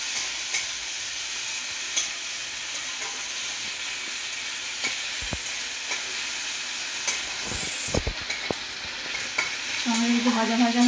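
Chopped tomato frying in a pan with cumin seeds, bay leaf and cinnamon, a steady close hiss of sizzling oil broken by scraping spatula strokes and a few sharp clinks near the end.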